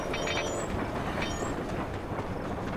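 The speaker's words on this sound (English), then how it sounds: "I got hit by the train." Train rumbling and rattling in Sly Cooper: Thieves in Time on PlayStation 3, set in an Old West level, as it hits the player. A loud, steady, dense clatter runs throughout, with no talking.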